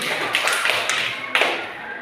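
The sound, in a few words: class applauding for Dewi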